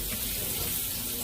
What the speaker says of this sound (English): And I wash the can off.